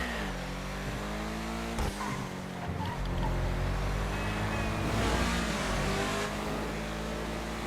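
An Ubermacht Sentinel GTS sports car in GTA Online drives with a steady, loud engine drone, with gear shifts and rising revs, and brief whooshes of passing traffic.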